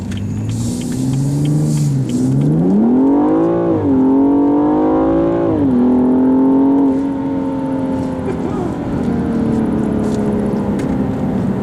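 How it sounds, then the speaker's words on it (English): A 2015 BMW M235i with a turbocharged inline-six accelerates hard, its engine note climbing steadily through the gears with brief dips at each shift, loud and close, with no talking. "Alright, so the inline-6 with the turbocharger definitely gets up and goes."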